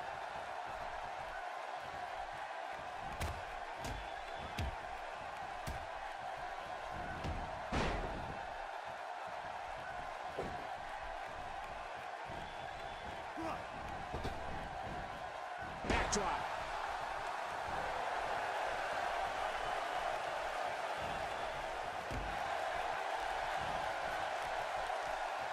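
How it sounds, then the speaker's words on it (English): Arena crowd in the WWE 2K17 wrestling video game, a steady roar of murmur and cheering with scattered ring slams and impacts, under commentary voices. "by the sounds of it, this crowd is ready for anything that happens tonight"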